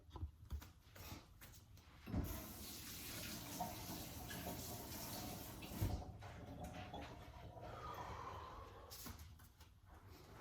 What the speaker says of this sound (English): So now I'm gonna wash my hand